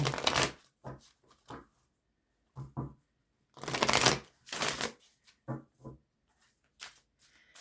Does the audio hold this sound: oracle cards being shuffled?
yes